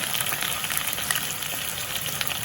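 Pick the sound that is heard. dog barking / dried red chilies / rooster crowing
dried red chilies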